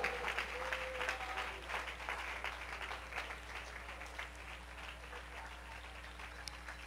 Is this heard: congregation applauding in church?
yes